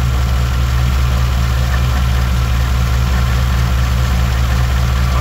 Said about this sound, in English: Let the engine run.